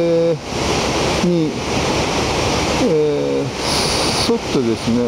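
Ocean waves break steadily in a continuous roar of surf near the tetrapods of the south breakwater at Sendai Shinko port in winter swell, with someone talking over the noise throughout.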